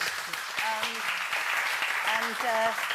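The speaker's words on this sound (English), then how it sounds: "I forgot to say this is James Huntington, let's give him a clap." A group claps steadily at a fairly low level while a person speaks over the sound.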